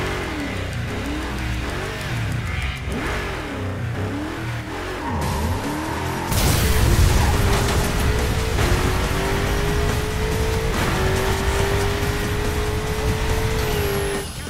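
Race car in the Burnout Paradise video game on PS3, loud engine revving and accelerating with tire squeals and skids, the engine pitch climbing and holding as the car speeds off, no speech.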